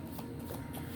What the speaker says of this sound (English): Oh, I just made these, so they're like so hard to shuffle.